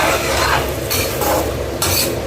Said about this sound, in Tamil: இப்போ பாருங்கள் நல்லா கொதிக்க ஆரம்பிச்சிச்சு